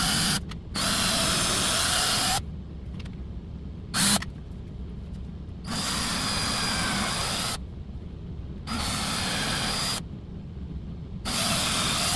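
A power drill bores bridge holes in a bass guitar body, running in several bursts of a few seconds each, separated by short pauses, loud and close.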